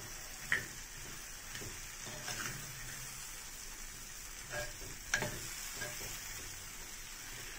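Split mustard seeds go into a pan while mango pickle is being made, giving a soft, steady sizzle broken by a few faint pops and ticks.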